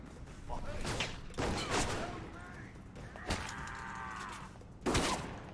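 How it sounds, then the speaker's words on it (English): Enemy gunfire in the video game Alpha Protocol, with repeated bursts of shots across the whole clip, the loudest near the start and the end. Game sounds and music play underneath. "they're shooting me as much as they want"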